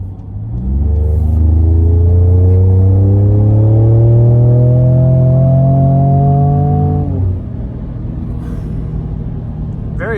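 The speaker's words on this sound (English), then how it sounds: "So you can hear it start to gear itself down when you get in sport mode." A 2019 Ford Raptor pickup engine in sport mode rises in a loud, close, steady drone whose pitch climbs smoothly for several seconds, then drops sharply as it gears down and settles into a quieter idle rumble.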